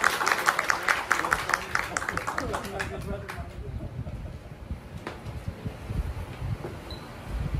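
Audience applause for the speakers at a creative talk event in Yogyakarta: a burst of clapping up front that thins out, leaving room murmur and occasional claps, with voices underneath.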